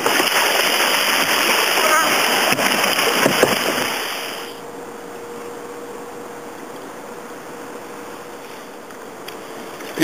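Surf crashes and water splashes loudly around a kayak during a fishing surf launch for about four seconds, then falls to a quieter wash of sea and wind, with voices faintly present.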